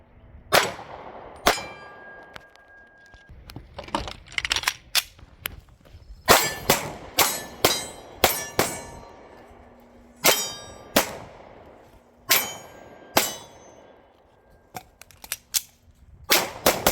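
Glock .40 cal pistol fitted with a Strike Industries Mass Driver compensator, firing a series of sharp, loud individual shots in uneven strings with short gaps and a longer pause partway through.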